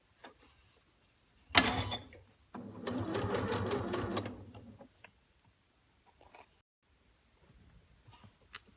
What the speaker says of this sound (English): we're going to sew a couple more stitches